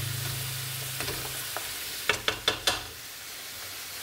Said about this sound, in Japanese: じゃあどんどん炒めていきます